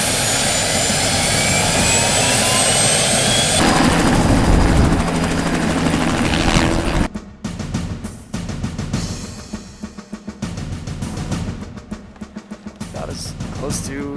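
A helicopter on a film stunt shoot roars loudly and close for about seven seconds with a steady rotor and turbine drone, then drops to a choppier, fluctuating engine and rotor sound.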